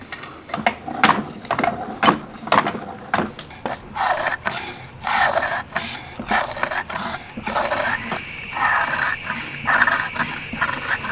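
Off-grid jaw crusher breaks gold ore rock from a mine, not yet bolted to its table; repeated loud crunching and clattering bursts at an irregular rhythm, close and dominant, with a sustained mechanical tone later.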